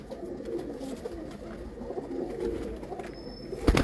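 Pigeons coo softly and repeatedly in low murmuring tones close by during vaccination of the birds, with a brief knock at the end.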